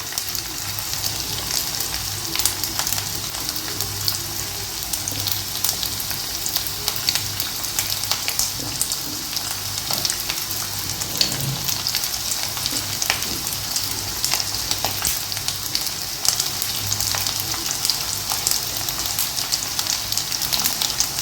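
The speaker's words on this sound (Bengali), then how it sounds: "এটাকে আমি হালকা হাতে একটু শ্যালো ফ্রাই করে নেব।" Chicken pieces shallow frying in butter for butter garlic chicken, a loud, continuous bright sizzle up close with occasional spatters, steady throughout and with no one talking.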